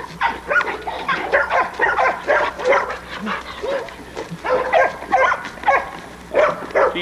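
Adult female American Bulldog, a double-bred Man of War line, barking and yipping repeatedly at close range in bursts, with a few whimpers between.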